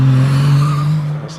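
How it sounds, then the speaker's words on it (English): A Triumph Special hillclimb car squeals its tyres on the Prescott course, a loud sustained engine drone and tyre screech close by, fading in the final moment. "As that Triumph Special just squealing the tyres a little bit there."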